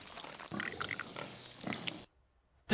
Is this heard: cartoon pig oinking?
yes